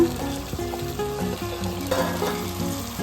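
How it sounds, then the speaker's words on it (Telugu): Chana dal is stirred into a potato and cabbage curry in a hot pan, giving a steady, loud sizzle of frying with scraping stirs and no talking. "శనగపప్పును వేసుకొని మంచిగా కలిసేటట్టు కలుపుకోవాలి"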